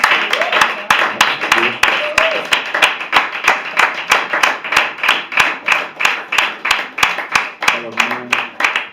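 A church congregation claps together in praise at a worship service, loud rhythmic unison claps in a steady even beat, with faint voices singing or calling underneath.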